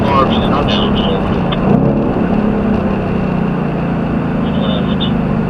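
A Ford Mustang on a road course at a racing school gives a loud, steady engine drone from inside the car, with a brief shift in tone as it brakes hard and downshifts. An instructor talks over it.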